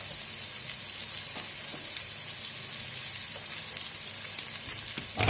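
Oil sizzling in a pan while meat fries for a Basra-style stew with chickpeas, a steady close hiss of bubbling fat that runs without a break, with a few faint clicks and a louder clatter at the end.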